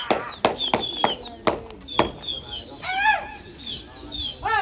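Pigeons in a large loft, with sharp wing claps and soft bird calls close by while someone talks over them.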